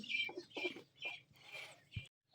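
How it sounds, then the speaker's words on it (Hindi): A few soft, close clucks from a Chinese hen and a Java rooster in short bursts, then silence at the end. "ये हमारी चीनी मुर्गी और हमारा जावा मुर्गा।"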